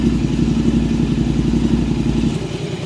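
A Royal Enfield Interceptor 650 with a Red Rooster full-system exhaust idles with a deep, loud, rapid burble, steady throughout before dropping slightly in level near the end.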